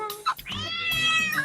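A small kitten lets out a drawn-out, high meow close by, starting with a short chirp and then holding a long, whiny cry.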